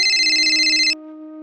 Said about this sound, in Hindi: उसका तो फोन आ गया।